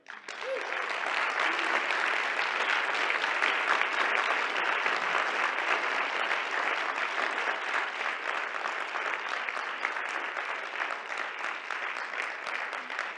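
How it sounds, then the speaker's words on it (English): A large audience applauds, dense continuous clapping that holds steady for over ten seconds before starting to ease off. "Please do give another applause to Yoazama, Carissa Adams, Teachers of the Y"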